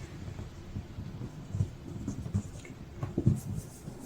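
Fabric being folded over by one inch along the edge of a DIY plant cozy, heard as soft, close rustling and papery rubbing with a few brief louder handling bumps.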